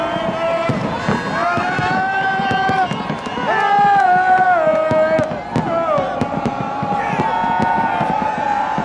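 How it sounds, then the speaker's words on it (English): Fireworks going up over Las Vegas on New Year's Eve, repeated sharp pops and bursts beneath a loud, cheering crowd with shouting voices throughout. "We got fireworks going up."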